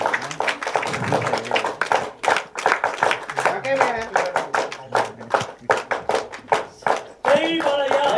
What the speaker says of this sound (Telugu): 1 2 1 2 3 క్లాప్ చేయండి ఒకసారి